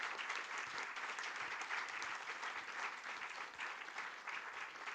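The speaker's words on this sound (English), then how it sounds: "I will ask everybody to give a big applause to our speakers and discussants." An audience at a conference session on competitive sustainability and prosperity claps for its speakers and discussants, a dense, even roar of many hands held steady for several seconds, moderately distant and unbroken.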